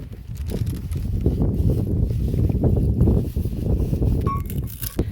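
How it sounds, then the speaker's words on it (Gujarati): Strong wind roars steadily against the microphone, a dense low rumble that swells and drops, with a brief faint whistle near the end. "બહુ પવન છે"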